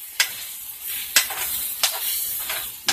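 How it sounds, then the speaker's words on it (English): Shrimp being stirred with seasonings in a cooking pan: a continuous bright sizzle broken by four distinct spoon scrapes against the pan at roughly even intervals. "we're going to stir it up really good"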